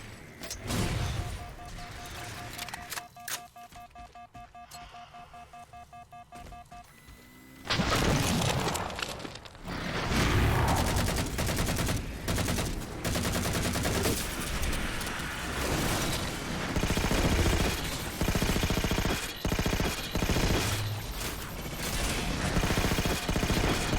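Turret gunfire in Halo 4 breaks out after a quieter stretch, then rattles on as sustained, loud rapid-fire shooting mixed with explosions and battle din.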